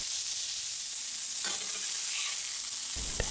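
A burger patty fries in a pan with a loud, steady sizzle that carries on throughout, with brief scraping touches near the middle and the end.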